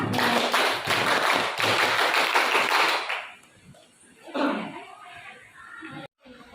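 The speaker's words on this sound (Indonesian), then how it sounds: "ayo kita tepuk pramuka terlebih dahulu ya. Satu kali tepuk pramuka" Tepuk pramuka, the Indonesian scout rhythmic hand-clapping routine, performed as a dense run of quick, loud claps for about three seconds, followed by a few softer scattered claps and taps.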